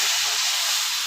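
Water poured into a hot pan of masala for a bhangar fish curry sets off a loud, hissing burst of steam that fills the whole short moment.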